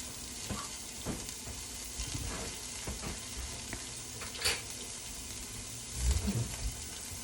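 Minced garlic frying in a pot with greens and cabbage, a steady sizzle with scattered stirring clanks and scrapes, with a louder stir bump near the end.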